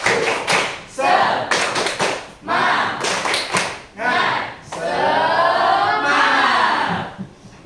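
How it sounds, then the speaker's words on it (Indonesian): Classroom of students performing a rhythmic clapping chant, bursts of loud, patterned claps in sharp groups alternating with children's voices chanting together, close and energetic. "Ulangi satu kali lagi, biar lebih semangat. 1, 2, 3. Tepuk semangat."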